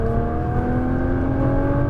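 A car engine pulls hard under full throttle on a Las Vegas track, a steady loud drone with sustained engine harmonics running through the whole stretch, no voices over it.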